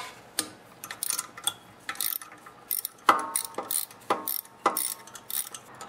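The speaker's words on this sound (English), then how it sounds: "Now I'm going to reach under here with an 8mm socket and remove both bolts that hold the connecting rod on." An 8mm socket ratchet works connecting rod bolts loose on a small engine crankshaft, giving a series of sharp, uneven clicks and metallic ticks in short bursts with quiet gaps between.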